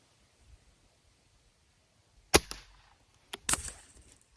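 Two sharp rifle gunshots from a custom varmint rifle, a second apart, loud and abrupt against a quiet background, each followed by a brief echoing tail.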